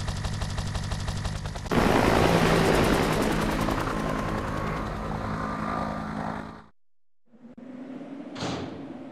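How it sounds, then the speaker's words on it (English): Helicopter in the video game Resident Evil 3, a loud sustained rotor roar with rapid chopping pulses that swells, then cuts to near silence before a brief burst and quieter tail. "Carlos, Nikolai beat us to the chopper"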